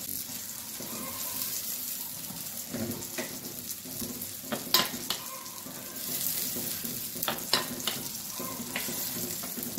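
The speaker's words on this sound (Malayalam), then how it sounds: "ഇനി നമുക്ക് അരപ്പ് ഇട്ട് കൊടുക്കാം. നമുക്കൊന്ന് ഇളക്കി" Ground coconut paste stirred into pineapple pachadi in a pan, a low continuous sizzle with occasional scraping and knocks of the spoon against the pan, close and moderate, no voices.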